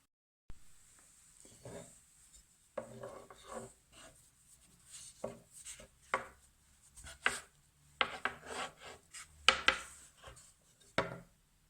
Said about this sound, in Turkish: Oklavayla ya da merdaneyle ince bir şekilde açıyorum